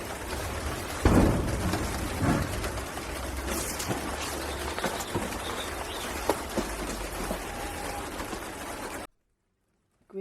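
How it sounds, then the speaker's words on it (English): Steady rainfall hisses outdoors over a garden allotment with occasional distant thunder rumbles and faint bird calls, then cuts to near silence. "Oh, I can hear the rain now."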